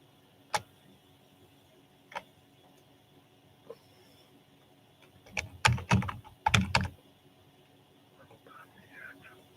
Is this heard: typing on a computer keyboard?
yes